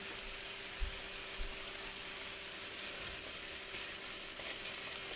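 Chicken and plenty of garlic sizzle steadily in a hot pan for a stir fry, a continuous close frying hiss with a couple of soft stirring knocks, no talking.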